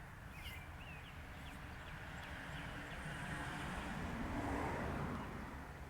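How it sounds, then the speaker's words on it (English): A car passing on a road outside a workshop, a steady broadband rumble and tire hiss that swells gradually and peaks near the end, heard faintly in the background with no talk. "I'm going to wait for this car to go by so we don't have the noise of the car in the background."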